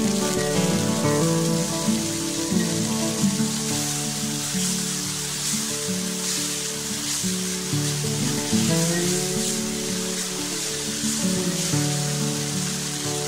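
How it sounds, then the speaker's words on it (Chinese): Eggplant stir-fried over high heat in a wok with salt, sugar, light soy sauce and oyster sauce, giving a steady, dense sizzle throughout, mixed with a sustained musical background. "放入茄子翻炒一下"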